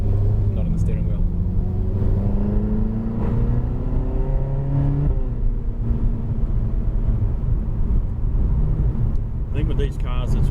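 A 2012 Ferrari California's naturally aspirated engine drones steadily and loudly from inside the moving car, its pitch climbing and falling as it revs, with a brief sharper burst near the end.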